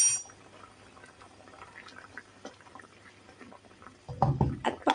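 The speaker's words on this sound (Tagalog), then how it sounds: "Kumukulo na ang aking tubig, kaya ilagay na po natin ang kamatis, tomato, at syempre yung sibuyas" Water boiling in a pot with tomato and onion, a faint low bubbling at first, then louder close splashing and plopping bursts toward the end.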